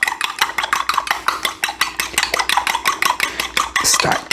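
Ground beef and eggs are stirred together in a big bowl, producing rapid, rhythmic wet squelching and scraping strokes, close and fairly loud, with no talk.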